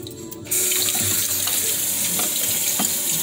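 Tap water gushes steadily into a kitchen sink holding bleach water, starting abruptly after a brief quiet moment and running loud and close without pause.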